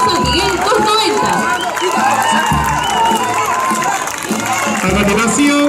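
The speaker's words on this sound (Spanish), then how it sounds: "Fuertes palmas, por favor, para el grupo Scout San Miguel 290." Large outdoor crowd clapping and cheering for a scout group at a scout parade in Lima, continuous applause with shouts and children's voices while a announcer speaks loudly over a PA.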